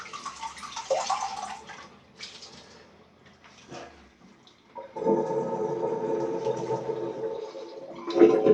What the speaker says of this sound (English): I'm just going to drain a drop of water